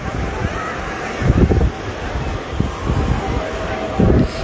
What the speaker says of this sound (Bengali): অনেকটাই বাতাস চলছে।